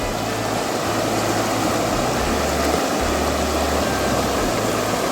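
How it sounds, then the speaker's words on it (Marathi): A constant broadband roar of a swollen river after rain fills the whole stretch, steady and unbroken, with a faint low hum underneath. "बघा आपला नदीचं कसं वाटतंय पाणी"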